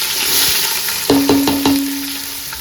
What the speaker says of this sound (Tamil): இந்த வெங்காயம் போடுறேன்